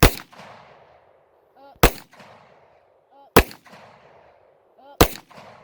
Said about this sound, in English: As soon as she set up, I pulled the trigger.